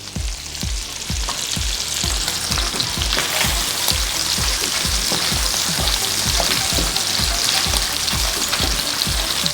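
Sausage fries in a skillet with a loud, dense, unbroken sizzle, close up, over a steady series of soft low thumps.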